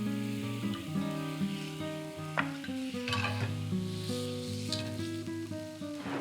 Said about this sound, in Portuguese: nós vamos agora grelhar esse abacaxi na manteiga e flambado na cachaça